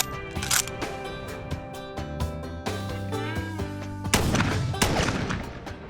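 A single sharp Winchester rifle shot cracks out against a hat target, loud and close, with background music playing throughout and a brief earlier transient.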